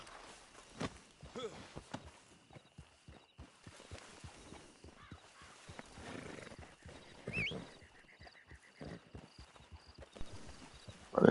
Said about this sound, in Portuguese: Agora eu estou com 2 cavalos.